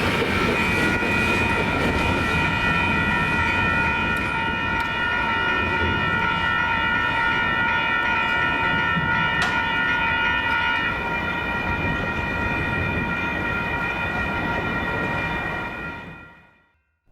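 A freight train hauled by rebuilt C44-9W locomotives, with a dead-in-tow SD-40N, rumbles loudly past in San Marcos, Texas, its horn blaring a long sustained chord throughout before the sound cuts off.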